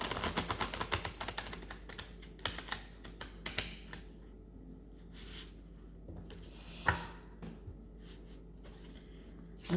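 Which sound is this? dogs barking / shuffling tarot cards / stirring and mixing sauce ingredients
shuffling tarot cards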